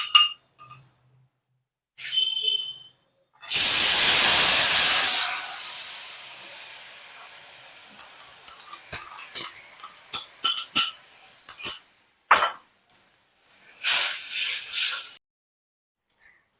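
Tamarind mixture poured into hot oil tempered with mustard seeds gives a loud burst of steamy hissing sizzle that fades over a couple of seconds, followed by scattered clinks of a utensil against the pan and a final short sizzle.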